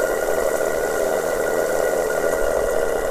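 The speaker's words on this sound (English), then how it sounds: "So this steam plant is basically brand new." A 1984 Maxwell Hemmens Max 11 steam plant engine, freshly serviced and running at low pressure, gives a steady, continuous mechanical hum and hiss with no pauses, close and fairly loud throughout.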